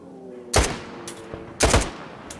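Gunfire in the video game STALKER 2, two sharp, loud shots about a second apart with ringing tails, and a fainter crack near the end, all over a low game ambience.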